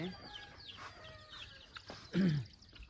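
Chickens and roosters cluck on a farm, with a low, steady hum of activity and one louder, closer cluck near the end.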